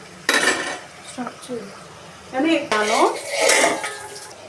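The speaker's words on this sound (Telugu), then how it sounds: "అది చూపి ఉల్లగడ్డ, బీన్స్ అన్నీ మిక్స్ చేసుకొని" Onion and beans being mixed in a pot for vegetable pulao, a few loud metallic clanks and scrapes of a spoon against the pot in irregular bursts, close by.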